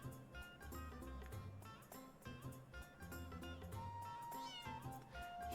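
Cat meowing in the Chrono Cross video game, a few short meows set over busy game music that plays throughout.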